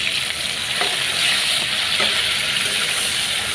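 Chopped shrimp and onion fry together in a pan for a bottle gourd curry, giving a steady, loud sizzle with occasional stirring scrapes throughout.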